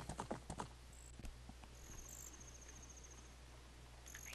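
Video game horse galloping in The Legend of Zelda: Ocarina of Time, a quick burst of hoofbeats up front, then steady game background sound with faint electronic tones.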